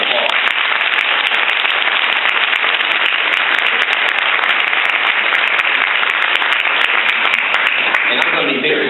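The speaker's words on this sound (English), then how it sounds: "Let's give them another round of applause." Loud, dense round of applause from the audience at a Black congratulatory graduation ceremony, steady and unbroken throughout with some voices mixed in.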